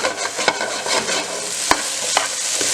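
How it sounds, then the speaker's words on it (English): Potatoes are shaken in a pan with chorizo, frying with a steady close sizzle and scraping bursts as they are tossed about, with no voices. "So you guys want to shake your potatoes."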